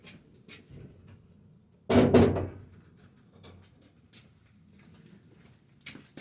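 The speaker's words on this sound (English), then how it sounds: "Let's close that door." A door swings shut with a single loud, close thud, surrounded by a few faint knocks and clicks in an otherwise quiet room, with no speech.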